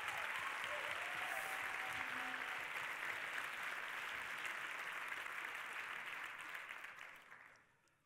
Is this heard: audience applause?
yes